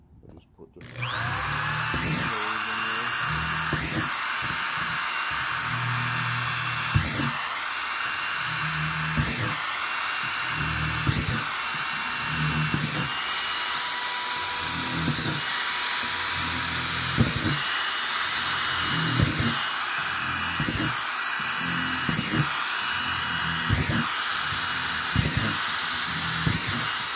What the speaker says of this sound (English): I drill more holes in the bottom of them so I have good drainage